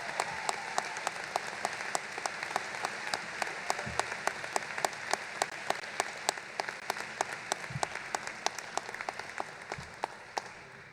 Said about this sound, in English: please join me in one more round of applause for our newest Herd Nation alumnus